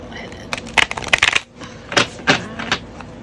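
A Hay House oracle card deck is shuffled by hand, producing quick riffling and clicking bursts in two short runs, close and crisp.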